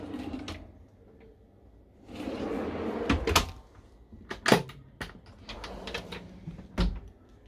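Pull-out pantry drawer in a luxury Frankia Titan Next motorhome sliding on its runners, a rolling rumble followed by several sharp knocks and clunks as it opens and shuts nearby.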